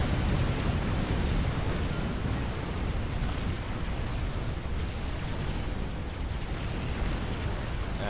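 Continuous rumbling explosions and anti-aircraft fire roll through a Supreme Commander battle, T1 flak pounding from a main base as Swiftwinds fighters fight overhead, forming a dense, loud wall of blasts with no clear gaps.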